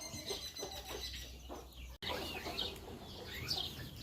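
Chickens cluck and chirp in a busy outdoor yard, several birds calling at once, fairly close with brief higher peeps scattered throughout.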